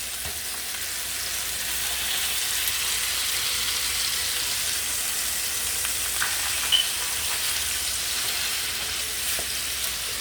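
Steady, close sizzling of homemade burger patties frying in a frying pan, a continuous hiss and crackle with no talking.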